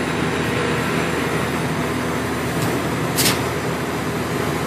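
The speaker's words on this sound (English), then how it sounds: "Now we can start our welding" Arc welding with a 7018 electrode, a steady dense crackling buzz with a faint hum, close and continuous, one brief sharp pop near the end.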